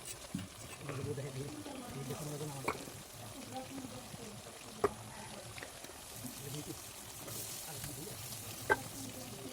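Potatoes sizzle and fry in a pan of chicken gravy in a village kitchen, a soft continuous crackle with occasional stirring clacks, under quiet talk.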